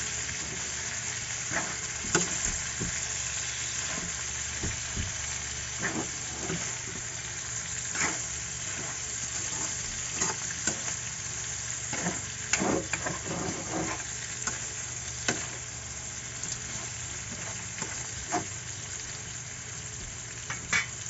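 Food sizzling and frying in a pan while it is stirred, a steady crackling hiss with scattered louder scrapes and clicks from the spoon, close and continuous for the whole stretch with no talk.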